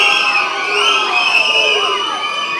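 A packed crowd at a Tamil film audio launch and pre-release event for the movie Leader cheers loudly and continuously, with high-pitched whoops and shouts merging into one sustained roar.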